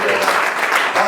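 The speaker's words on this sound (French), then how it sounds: "Donnez-moi une acclamation." A church congregation at an adoption ceremony breaks into loud acclamation and applause, a close, dense burst of clapping mixed with cheering voices throughout the brief moment.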